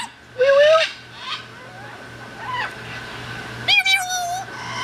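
An African grey parrot mimics a cat's meow in several warbling, rising-falling calls, fairly close and clear over a faint steady hum.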